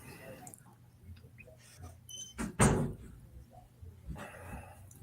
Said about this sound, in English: That was my door.